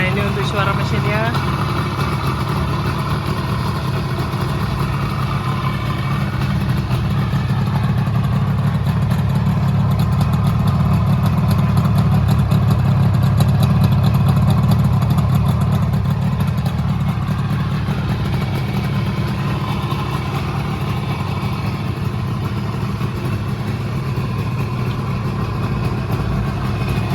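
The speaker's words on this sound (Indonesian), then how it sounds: "Nah ini untuk suara mesinnya." A 1974 Suzuki GT185 motorcycle in near-original condition idles steadily at close range, a smooth, even low engine hum lasting throughout, with a person speaking now and then.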